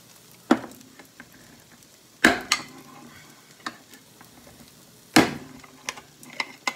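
A small can of tomato sauce punctured with a metal church key opener in a home kitchen: three sharp metallic pops spaced a few seconds apart, with small clicks and scrapes in between.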